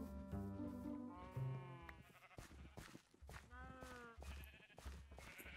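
Minecraft cows mooing in a video game, several drawn-out calls in a row with short gaps between them, close and fairly clear, with a voice talking softly underneath.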